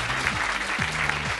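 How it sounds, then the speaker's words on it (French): An audience applauds steadily and fairly softly, many hands clapping in a dense continuous patter, with a low tonal hum underneath. "Vous pouvez les applaudir très très fort."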